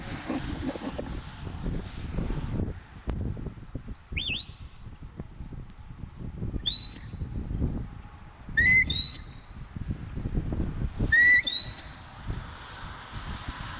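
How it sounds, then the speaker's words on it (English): Sharp, high two-tone herding whistles blown to a sheepdog in short bursts at intervals, each a quick rising or falling call, over steady wind rumble and outdoor noise. "And this is what it's going to sound like when you whistle them."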